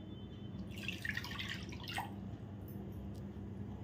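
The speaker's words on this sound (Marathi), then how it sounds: "आता ज्या कढईत मी हे करणार आहे त्याच कढईत मी आधी हे पाणी घेते" Two cups of water poured into an empty kadhai (wok) in a home kitchen, a brief splashing pour of a couple of seconds over steady low background hum.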